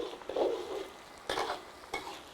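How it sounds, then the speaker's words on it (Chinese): Scallion, ginger, garlic, dried Sichuan pepper and chili stir-fried in hot oil in a wok, with bursts of sizzling and scraping stirs, close and loud, in three short surges. "油热了倒进葱姜蒜颗颗， 干花椒、海椒煸香"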